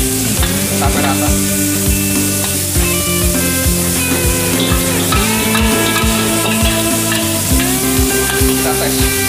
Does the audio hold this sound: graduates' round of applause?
no